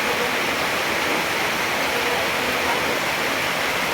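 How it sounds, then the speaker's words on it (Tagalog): Floodwater overflowing inside a house gives a loud, steady rush of water that roars without a break, like a torrent pouring close by. "Awas-awas na gyud ang tubig."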